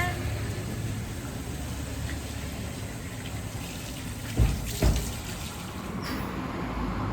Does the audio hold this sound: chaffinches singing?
no